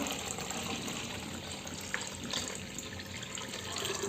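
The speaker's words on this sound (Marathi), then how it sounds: "थोडंसं नॉर्मल मीठ, पाणी घालते मी." Water pours steadily into a chicken marinade mixture of salt and coriander for a grilled chicken recipe, a continuous close splashing flow with no talking.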